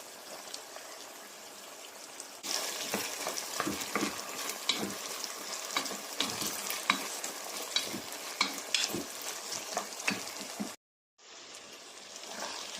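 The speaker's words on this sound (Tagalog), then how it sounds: "Lagyan ang giniling. And ito, haluin na natin." Ground pork giniling sizzles loudly in a pan while a spatula stirs it in quick repeated scrapes. The frying hiss runs steadily, drops out briefly near the end, then resumes.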